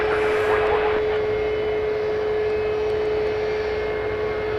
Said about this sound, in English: we'll show you the replay of the Fiji Airways arrival